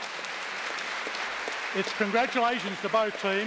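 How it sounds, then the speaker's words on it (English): Audience applause at an IQ2 debate on whether society must recognise trans people's gender identities: a steady, dense wash of clapping that continues under someone speaking over it in the second half. "a big round of applause"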